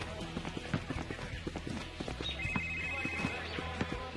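A video game phone rings with a high electronic tone over rhythmic clip-clop hoofbeats and game-like background sounds, no one speaking.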